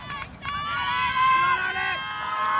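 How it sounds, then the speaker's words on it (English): Spectators at a polocrosse World Cup match between the USA and Ireland, a rising clamour of shouting and cheering voices building over a couple of seconds, loud and mid-distance. "The crowd really starting to get vocal."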